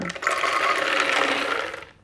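Unsalted peanuts are dumped from a jar into an open blender jar, making a loud, continuous rattling pour that lasts about two seconds before it cuts off.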